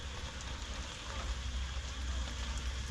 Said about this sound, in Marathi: पाऊस चालू आहे बारीक